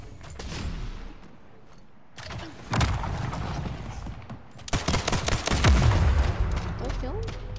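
Bursts of rapid gunfire in the Splitgate first-person shooter, loud automatic volleys separated by quieter stretches with game effects, building into heavy continuous shooting near the end.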